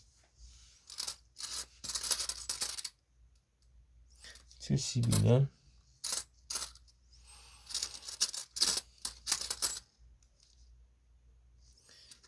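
Coins from a bank roll of ten-won pieces clink and click in bursts as they are sorted and flipped over, with someone speaking between the clusters of metallic taps.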